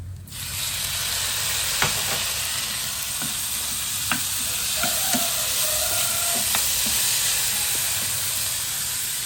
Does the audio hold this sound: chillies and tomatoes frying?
yes